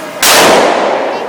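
A single AR-15 rifle shot outdoors, a sharp loud crack that rings out and decays over about a second, alone with no talk.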